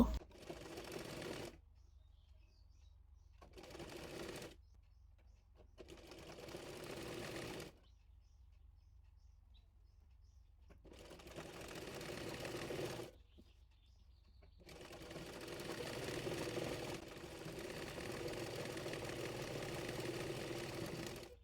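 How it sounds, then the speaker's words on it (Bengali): An electric sewing machine stitches a kameez sleeve onto the body in several steady whirring runs of a few seconds each, separated by short silent pauses, with the last run lasting longest. "এবার বডি পার্টের সঙ্গে হাতাটি সেলাই করে নেব।"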